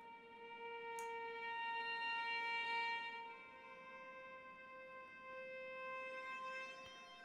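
Soft sustained synthetic violin-style string chord from the Frozen Strings VST, smooth and quiet with gentle swells and a couple of tiny clicks, no voices.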